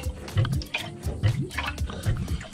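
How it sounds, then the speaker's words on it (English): Water drains from an RV's water tank with close, gurgling splashes and drips in an uneven rhythm, moderately quiet and heard alone without talk. "You can hear the water draining, so we have ways to go."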